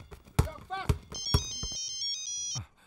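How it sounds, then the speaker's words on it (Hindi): An incoming call sets off a mobile phone ringtone, a bright repeating electronic melody in the second half, following a few sharp knocks and brief voices. "फोन आया"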